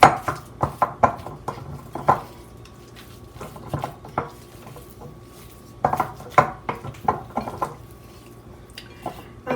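Pizza ingredients being mixed in a bowl, close and fairly loud, with irregular clinks, knocks and scrapes in quick bursts, then a pause, then more bursts.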